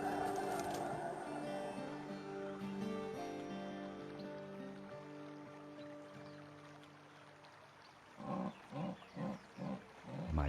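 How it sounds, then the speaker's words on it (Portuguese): A female jaguar calls for a male in the Brazilian Pantanal: a series of four or five rhythmic, rasping grunts near the end, after a stretch of soft sustained musical tones, moderately close and without talk. "Outra onça fêmea está chamando por um macho."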